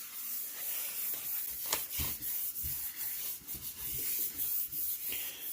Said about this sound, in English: Just give it a little light sanding here.